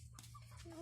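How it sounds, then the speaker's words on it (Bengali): Village chickens cluck softly while pecking at feed, a few short close calls over a low background hum, with no talking. "এই তো খাচ্ছে মুরগি"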